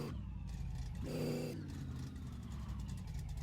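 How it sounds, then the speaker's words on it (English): A car engine fires up with a brief rising rev, then settles into a steady, fairly loud idle through its aftermarket exhaust, running alone without talk. "Turn that key. Still starts up, no problem whatsoever."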